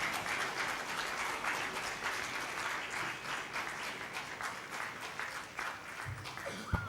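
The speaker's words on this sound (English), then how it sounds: "Can we have a round of applause," A roomful of people applaud at a hospital fire safety event, a steady crackling wash of clapping that holds even for several seconds before tapering, with a brief low thump near the end.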